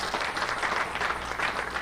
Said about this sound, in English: a big round of applause here in the building.